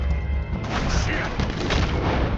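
Gatling gun fire during a bank mission in Red Dead Redemption 2: heavy, continuous booming gunfire and crashes throughout, loud and close, with shouting voices mixed in.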